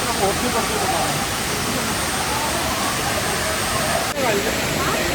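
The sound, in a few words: waterfall water falling forcefully at Kondhana caves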